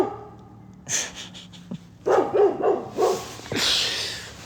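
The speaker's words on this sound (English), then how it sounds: "She's barking at absolutely nothing." A pet dog barks in short bursts indoors, sharp yips and a few whimpery notes coming close and fairly loud, with gaps between the volleys.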